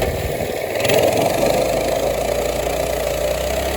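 Minibike engine revving hard as its wheel spins, a loud, steady, rough mechanical drone held close to the microphone for several seconds.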